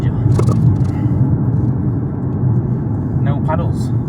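A BMW 118i with an automatic gearbox and its muffler deleted produces a deep, steady exhaust rumble close by, while people talk intermittently over it.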